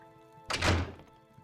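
A locked storage room door being tried in Oblivion, a single dull wooden thunk with a short rattle before it settles back to quiet.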